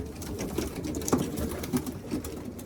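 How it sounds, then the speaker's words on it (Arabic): Young squabs coo softly in a loft alongside other pigeons, a low murmuring burble with small irregular peaks, steady and close, with no talking over it. "دي زغاليل"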